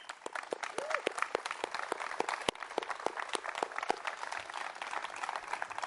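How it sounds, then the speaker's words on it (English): Scattered applause from a press conference audience at Mirimichi Golf Course, individual claps popping out unevenly and fairly faint, with murmured talk mixed in underneath. "So big round of applause for Talent Golf."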